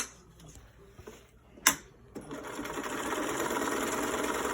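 Sewing machine stitching along the top and bottom edges of pinned fabric mask pieces with a quarter-inch seam: a few short taps and a click, then a steady fast whirring stitch rhythm running close and continuous.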